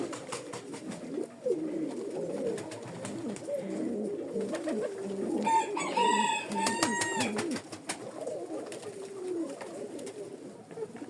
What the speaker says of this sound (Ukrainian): Це вже півторарічний голубок.